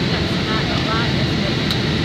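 A Jet2 Boeing 757-200 landing at Alicante Airport, heard from inside the cabin as a dense, steady engine and airflow roar with a voice talking over it.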